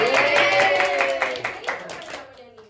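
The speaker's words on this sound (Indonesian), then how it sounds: "Nah, kan tepuk tangan dong." A group at a school gathering claps for a student guest, a short burst of hand claps with a voice over the start that fades out toward the end.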